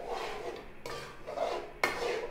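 A spoon scrapes and rasps in quick strokes through semolina roasting in ghee in a pan, with two sharper scraping sweeps standing out close and clear.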